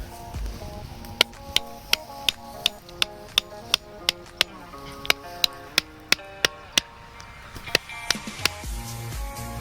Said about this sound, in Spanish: procedemos a clavar en la zona.